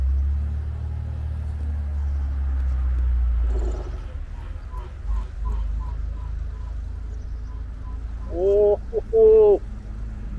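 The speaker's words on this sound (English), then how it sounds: "it's not easy driving backwards like this in a circle" A 1963 Corvair engine runs with a steady low rumble as the car is driven backwards in a circle, continuous throughout, with a brief spoken exclamation near the end.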